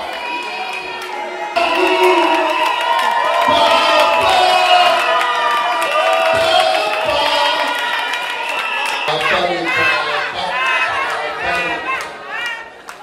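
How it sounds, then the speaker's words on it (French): A wedding celebration crowd cheers and shouts loudly and continuously after an announcer asks for applause, voices overlapping in a dense festive roar. "Fils de Monsieur Mwembo Moma Lisangui, que je prie d'applaudir très fort, très fort, très fort, très fort."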